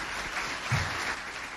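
Audience clapping at a business event in Cabo Verde, a steady mid-level patter of many hands sustained throughout, swelling slightly midway.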